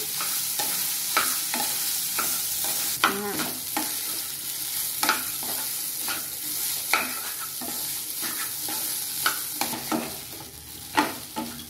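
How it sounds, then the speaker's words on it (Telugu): Mashed idli being stirred into fried onions in a hot pan for idli upma, a steady sizzle broken by repeated scraping and tapping strokes of the spoon against the pan, close up. "ఇప్పుడు స్మాష్ చేసి పెట్టుకున్న ఈ ఇడ్లీ దాన్ని వేద్దాము. వేసి ఇదంతా కలిసేటట్టు బాగా కలుపుకోవాలి."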